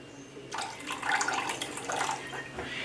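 Black vinegar pours in a thin liquid stream into a beef short rib marinade flavoured with five spice powder, a splashing trickle rising and falling for a few seconds, close and moderately loud with no voices.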